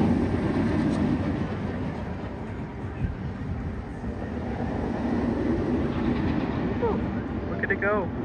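A roller coaster train on test runs on the Pipeline surf coaster, a steady loud rumble and roar on its track with squeals near the end and people talking over it.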